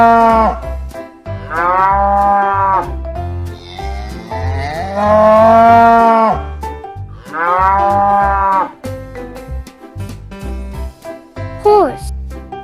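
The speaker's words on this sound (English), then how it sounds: "Cow," A cow moos in a few long, loud, drawn-out calls separated by short pauses, with a light musical backing throughout.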